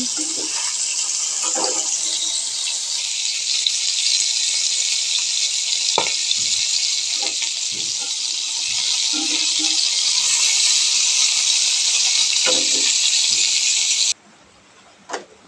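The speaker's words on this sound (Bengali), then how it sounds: "আমি এখন মাছগুলো ভেজে নিচ্ছি।" Fish for a bhuna fry in hot oil in a pan, giving a loud, continuous hissing sizzle with occasional clatter. The frying stops abruptly near the end, leaving near silence.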